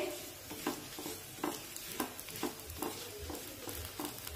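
Shepu (dill) paratha roasting in oil on a hot pan over medium heat: a soft steady sizzle broken by regular scraping or pressing strokes roughly every half second, close and moderately quiet.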